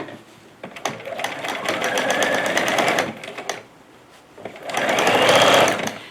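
A sewing machine stitches through fabric while curtains are hemmed, running in two steady rattling bursts of a couple of seconds each with a brief pause between, close and clear.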